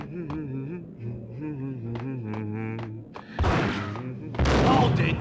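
Explosions in the video game Max Payne: loud, broadband bursts erupt twice in the second half, following a stretch of rhythmic in-game tones and thumps.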